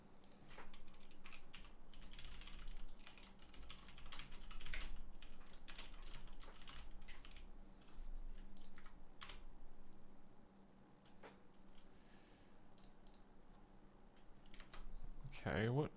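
A computer keyboard clatters in irregular bursts of typing over sixteen seconds, close and fairly quiet, with faint background sound.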